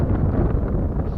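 Wind buffeting a microphone out on open water beside a fishing kayak, a brief loud low rumble of gusts with no voices.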